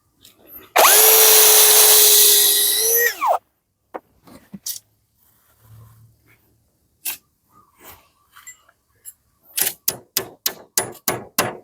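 A power drill whines loudly for a few seconds and stops, followed by scattered clicks and then a quick series of sharp knocks.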